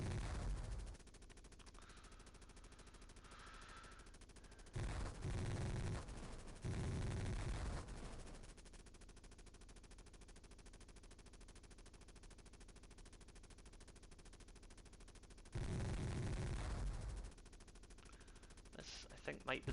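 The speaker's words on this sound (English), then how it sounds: "we're going to machine gun these things first, and then we'll get the ammo crate." Helicopter machine gun fire from the Sega Genesis game Jungle Strike comes in a few loud, dense bursts separated by quieter gaps, with a voice talking at times.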